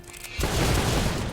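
A gunshot in the Legends of Runeterra card game comes in after a short quiet lead-in as a sudden loud blast, followed by a dense, sustained rumbling burst that fills the rest of the moment, with no talk over it.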